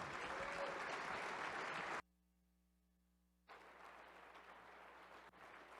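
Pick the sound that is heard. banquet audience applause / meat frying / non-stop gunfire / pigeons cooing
banquet audience applause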